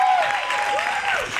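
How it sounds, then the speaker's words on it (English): Brief applause from an audience at a women's business success event, dense clapping for about a second with a faint voice and tonal sound over it. "can we give them a round of applause?"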